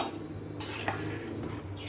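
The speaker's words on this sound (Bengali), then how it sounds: "এই যে ফুলকপি আলুটা যেটা ভেজে রেখেছিলাম সেটা দিয়ে দিলাম।" Fried cauliflower and potato tumble into a pot of gobindobhog rice khichuri with one sharp metallic clank against the pot, over a continuous close bubbling, sizzling hiss.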